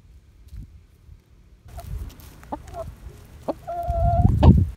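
Hens in a farm chicken coop cluck and call in short, close bursts, with a few drawn-out squawks rising near the end; a quiet rustle precedes them.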